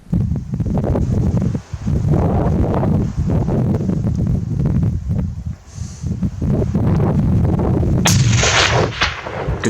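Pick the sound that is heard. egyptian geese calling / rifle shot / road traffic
rifle shot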